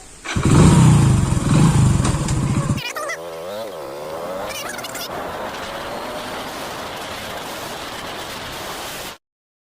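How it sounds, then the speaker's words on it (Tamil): A motorcycle engine starts with a loud, low burst lasting a few seconds, then settles into a steadier idle or running drone until it cuts off, with no speech, just before a ride out to a cashew grove. "வண்டியை ஸ்டார்ட் பண்ணிடலாம்"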